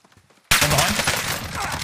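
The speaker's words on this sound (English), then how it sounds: "I just got sniped by someone." A single sharp sniper shot in Call of Duty Warzone cracks in loudly after a half second of near silence, followed by a sustained noisy echo and rumble.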